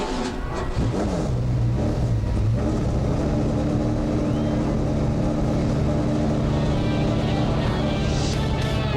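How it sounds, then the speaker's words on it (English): Stock car engines fire up and roar together at Toledo Speedway before an ASA AC-Delco Challenge Series race, a loud, dense, continuous rumble of many motors revving near and far with no voices over it. "Drivers, start your engines."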